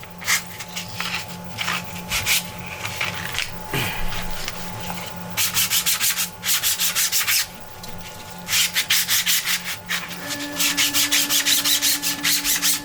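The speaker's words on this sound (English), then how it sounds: "I do like to run it past a bit of sandpaper, like 240 grit" A 3D-printed katana sheath part is rubbed back and forth over 240 grit sandpaper laid flat, a close, rhythmic scratchy stroke that repeats in quick runs with short pauses.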